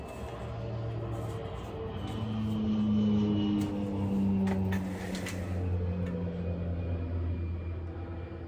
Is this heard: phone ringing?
no